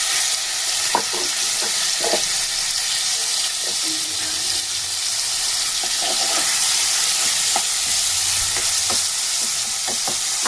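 Prawns dropped into hot oil after potatoes were fried in it, a steady loud sizzle of frying, with faint clinks and stirring taps now and then, for preparing a Bengali prawn posto dish.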